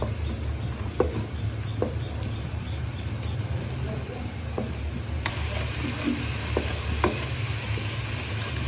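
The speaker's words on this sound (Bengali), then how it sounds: "চাউলটা একটু ভেজে নেব মশলার মধ্যে।" Rice fries without oil among chili, coriander and cumin powder in a pan for bhuna khichuri, giving a steady close sizzle broken by sharp scraping clicks of stirring.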